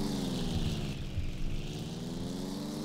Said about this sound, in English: Plane's taking off again.